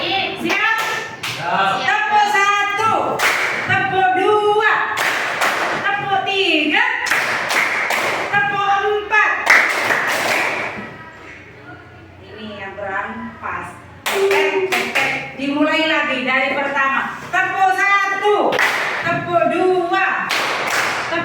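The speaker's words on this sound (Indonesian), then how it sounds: "ya main tepuk tangan dulu dengan Bu Guru" Groups of hand claps in short counted bursts in a classroom, separated by a teacher's voice giving instructions in Indonesian and children's voices joining in.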